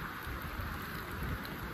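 Heavy, steady rain falls on a muddy, fog-covered trail up Mahuli Fort in the Sahyadri hills, a dense, even wash of drops that stays constant throughout, with no voices.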